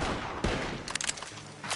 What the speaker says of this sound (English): The gunshots are coming from...